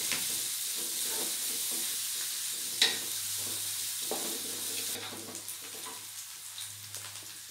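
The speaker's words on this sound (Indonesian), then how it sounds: "Sekarang aku masukkan bawang putihnya ya. Jadi ini kita masak sampai harum." Garlic sautéing in a pan with a gentle, steady sizzle throughout, close by, with a soft stirring clink and occasional light scrapes and taps.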